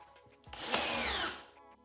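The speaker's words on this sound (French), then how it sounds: "Pour percer ma branche de bois flotté, je vais utiliser deux mèches différentes, une plus fine que l'autre." A drill bores into a driftwood branch in one short, quiet burst of about a second of whirring and grinding, with near silence before and after.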